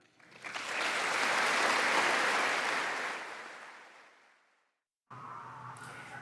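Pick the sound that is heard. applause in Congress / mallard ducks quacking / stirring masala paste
applause in Congress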